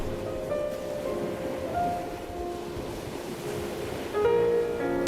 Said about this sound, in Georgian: ზღვას მლაშე, გრილი ნიავი მოჰქონდა ნაპირზე. რეგრიგობით წვებოდნენ ტალღები.